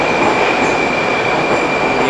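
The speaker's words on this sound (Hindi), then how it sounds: "ये आ गई भाई मेट्रो," Metro train rolling in at a station after an airport arrival, a loud steady rumble with rail noise and a faint high whine throughout, no talking.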